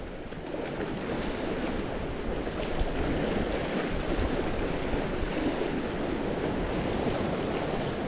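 Ocean swell and surf wash in a continuous, steady rush at night by the water, with wind noise mixed in and no voices.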